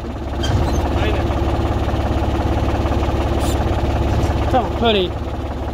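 A 2014 New Holland TT55 tractor engine idles on hand throttle with a close, steady, even diesel rumble, while someone speaks briefly over it.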